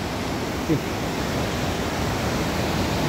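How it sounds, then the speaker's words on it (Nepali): A constant, even rush of river water where two streams meet, loud and close, with no break in the steady roar. "दोभान हुन्छ नि, दोभान दुईवटा खोलाको"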